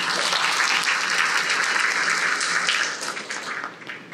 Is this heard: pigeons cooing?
no